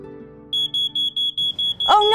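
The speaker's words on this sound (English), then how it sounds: "Oh no, that's the smoke alarm." A household smoke alarm gives seven short, sharp, evenly spaced high beeps in a quiet room, followed at the end by a voice beginning to speak.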